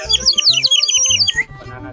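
A water-filled bird whistle toy, bought at a craft village stall, gives a quick run of bright warbling chirps, close and loud, for about a second and a half, then stops.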